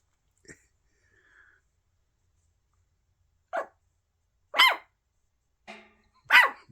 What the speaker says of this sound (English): he's barking more like a dog now